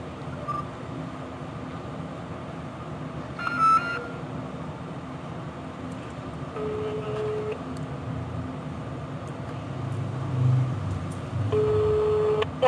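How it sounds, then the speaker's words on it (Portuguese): Mobile phone call being placed from a work cellphone, with faint dialing tones and electronic beeps over a low background hum, short tonal bursts recurring before the line connects. "eu vou ligar pra ela aqui do meu serviço, então vou ligar desse celular aqui"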